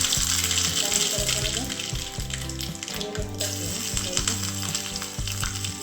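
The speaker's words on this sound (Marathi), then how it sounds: "त्याच्यामध्ये तेल टाकून घेतलं त्याच्यामध्ये मोहरी टाकायची मोहरी टाकून घ्यायची" Mustard seeds crackle and sizzle in hot oil in a pan, a tempering for khandvi, with a steady bright hiss over background music throughout.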